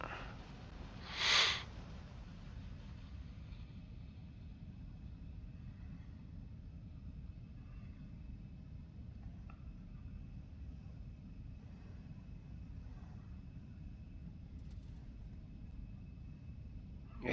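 Embraer E175 jet engines spooled to takeoff thrust, a steady broadband roar with a faint high whine running throughout, heard from inside the aircraft, with one brief louder burst near the start.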